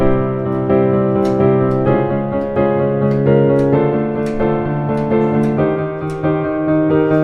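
Piano chords are played in a slow progression including a Neapolitan (flat 2) chord, each change struck clearly with a bass line walking up underneath, close and full, without any talking.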